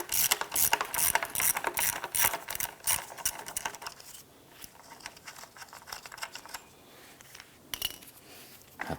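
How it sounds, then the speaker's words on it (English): A ratchet with an 8mm socket works a bolt loose from the cooler line bracket of a 2005-2007 Ford Five Hundred, its rapid clicking loud and close at first, then quieter and sparser as the bolt frees. "8mm socket, we'll remove the bolt holding that"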